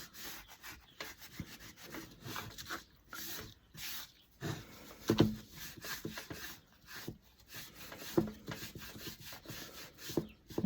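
Scrap wood rubbed with a baby wipe, giving a close, steady run of dry rubbing and scuffing strokes in a quiet room.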